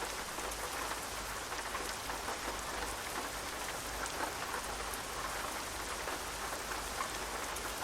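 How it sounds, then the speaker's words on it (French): Steady rain in Euro Truck Simulator 2, a dense even hiss of drops on the truck lasting throughout, fairly loud and unbroken, with no one talking. "Ah bah il pleut."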